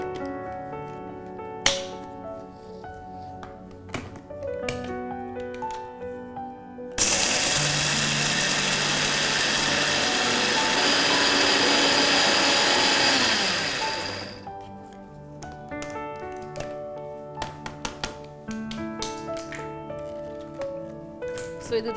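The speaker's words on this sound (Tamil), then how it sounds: "ஒரு மிக்சர் ஜாரில் போட்டு நம்ம இது கிரைண்ட் பண்ணிக்கலாம்." An electric mixer grinder whirs loudly in a jar grinding roasted ingredients for about seven seconds, starting abruptly and winding down, with clattering and handling sounds in a kitchen before and after.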